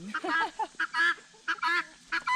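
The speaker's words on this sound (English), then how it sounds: "And of course these guineas are loud." Guinea fowl in a coop give loud, harsh repeated calls, several birds overlapping in quick bursts with short gaps between them, close by and with no talking.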